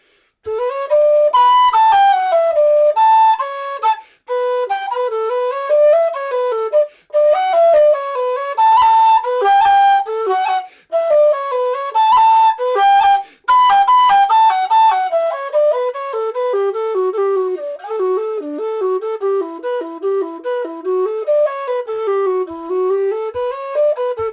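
A low whistle plays a flowing melody alone, notes sliding and ornamented, with brief pauses for breath between phrases, loud and close.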